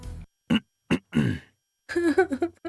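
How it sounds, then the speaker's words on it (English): A man clears his throat close by in a few short rough bursts, followed by a brief low murmured vocal sound. "I heard someone right behind me clear his throat"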